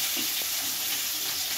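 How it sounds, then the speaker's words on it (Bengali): Chopped onions fry in hot oil with chillies for a Bengali fish curry, a steady close sizzle with a faint stir or two, heard alone. "পেঁয়াজটাকে হালকা করে ভেজে নেব।"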